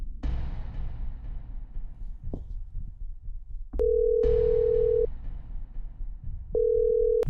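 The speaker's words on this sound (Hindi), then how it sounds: "मैं एक बार शिखा को और फोन करता हूँ।" A telephone call's ringing tone sounds as two long, steady electronic tones separated by a pause, fairly faint over low background rumble with a couple of soft knocks, no voices.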